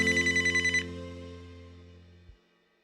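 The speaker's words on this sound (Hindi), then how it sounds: "भैया का फोन।" A phone rings in a repeated electronic pattern for under a second, then leaves a long decaying tone that cuts off abruptly, with no voices.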